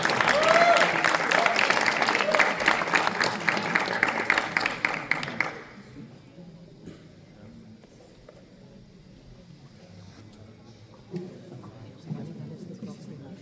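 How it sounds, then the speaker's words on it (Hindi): Loud, dense applause from an audience at an Independence Day poetry recital in a college hall, steady clapping for about five seconds before cutting off abruptly to quiet room tone with a couple of faint knocks. "जोरदार तालियां"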